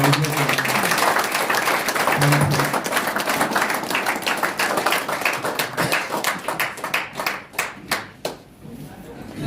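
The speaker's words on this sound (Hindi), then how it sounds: "जोरदार तालियों का साथ" A crowd at a business meeting claps loudly and steadily, the applause thinning into scattered individual claps toward the end, with a voice speaking briefly near the start.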